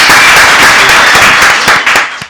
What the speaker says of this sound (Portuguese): Vamos receber com uma salva de palmas ele,